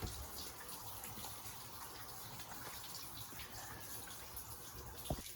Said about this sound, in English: We have water coming off both exhaust ports and the pump.